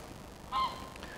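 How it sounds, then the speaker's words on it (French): A single brief Canada goose honk rises out of quiet outdoor background noise, moderately close, with no voices around it. "Il y a des oies là, des oies du Canada. Et elles sont bruyantes"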